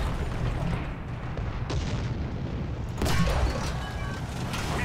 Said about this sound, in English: See if we can't rip some shots through there.